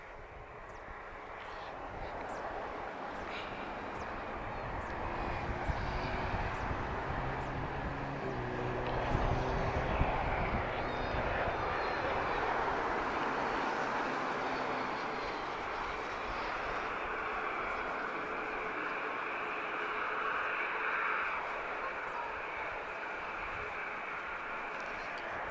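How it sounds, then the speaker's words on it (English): A Portuguese-registered Cessna 680 Citation business jet arriving at Lisbon Airport gives a sustained engine whine and rumble that swells gently toward the middle and then holds, moderately distant, beneath intermittent talk. "This is a Cessna 680 Citation"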